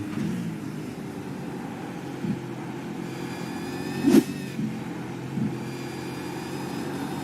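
A Supercars race car engine drones steadily from the in-car view during a lap of the track, with a few brief surges and one sharp revving spike midway.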